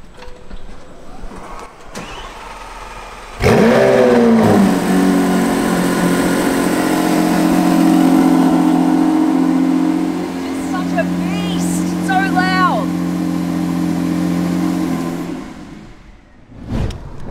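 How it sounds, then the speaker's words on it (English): A McLaren supercar's engine fires up with a sharp bark and settles into a loud, rising rev that holds for several seconds before fading, heard up close while people talk faintly nearby. "Typical McLaren sound."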